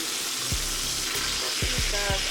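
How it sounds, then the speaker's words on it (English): Steaks sizzle in a pan with a steady frying hiss, while a few low thumps and scrapes mark them being turned over. "now it is time to check my steak and flip them over"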